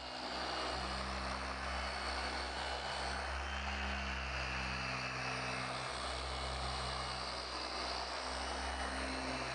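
A Porter Cable 7424XP dual-action polisher runs under light pressure on the paint of a 2016 BMW i8, a steady, even droning whir that holds without a break from start to finish.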